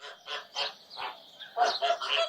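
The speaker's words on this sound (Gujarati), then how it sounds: "અભયારણ્યમાં જાત જાતના અને ભાત ભાતના પક્ષીઓ આવે છે." Migratory birds call at the Thol Lake sanctuary in Gujarat, with about seven loud, close goose-like honks in a steady rhythm and no talking.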